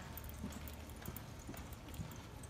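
Hooves of a horse in a ranch riding arena clip-clop softly and steadily through a low background murmur, a loping western ranch horse moving at an even, unhurried pace with no voices over it.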